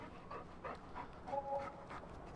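A dog panting close by, quick rhythmic breaths at a steady pace across a couple of seconds, soft and with no voices over it.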